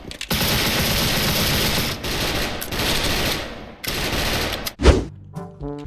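An MP5 submachine gun fires in the Special Force video game, loud sustained automatic bursts broken by brief pauses, ending in a short clattering mechanical sound.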